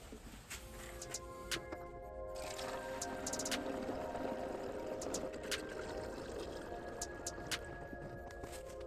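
Homemade rust remover liquid is poured into a metal part, a faint trickle and drip with small splashes and bubbling, close and quiet with no talk.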